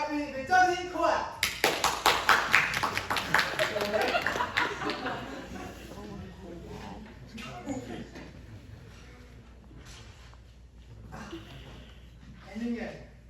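Audience at a university immunology plays performance claps in a quick burst of dense handclaps early on, then the sound thins into scattered taps, shuffling and murmuring with people talking nearby.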